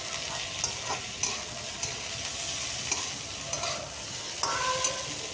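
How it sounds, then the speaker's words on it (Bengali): Potatoes frying with freshly grated ginger in a pan, a close, continuous sizzle broken by light periodic scrapes and knocks of a spatula stirring, with no voices. "আদাটা দিয়েও আরও কিছুক্ষণ আলুটাকে ভেজে নিচ্ছি।"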